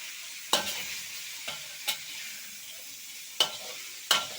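Food being stir-fried in a pan for a Thai home-cooked dish, with a faint steady sizzle broken by a few sharp scraping clacks of a utensil against the pan, spaced irregularly and fairly close.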